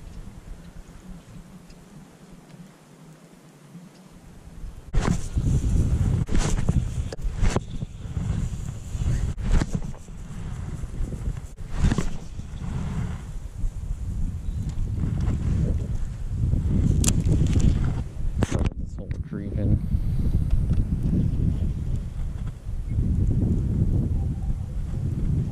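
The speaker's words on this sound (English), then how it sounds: "It's getting kind of dark. It's windy." Wind gusts buffet the microphone beside a pond, a loud, rumbling roar that rises and falls for most of the stretch, broken by sharp knocks and clicks.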